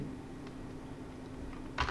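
A single computer keyboard key is pressed once near the end, a close, brief click over a quiet, steady room hum.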